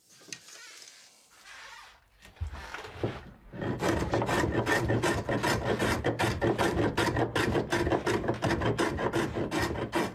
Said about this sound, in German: Wenn die grobe Oberfläche abgehobelt ist, kommt endlich der feine Hobel zum Einsatz.